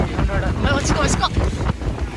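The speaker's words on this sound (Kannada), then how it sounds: "ಗಾಳಿ ಹೆವಿ ಜಾಸ್ತಿ" Strong wind buffeting the microphone while riding in a moving vehicle, a loud continuous rushing roar with people talking over it.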